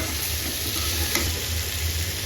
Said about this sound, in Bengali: মাছটা যে ভেজে রাখছিলাম এটা আমি এখন পটল দিয়ে রান্না করতেছি